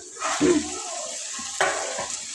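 Water is poured into a pan of simmering chicken and potato curry to make gravy, with two short splashing pours close to the microphone.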